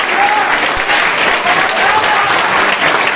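Loud, sustained applause from a church congregation fills the space for about three seconds, thick overlapping claps with a faint voice underneath.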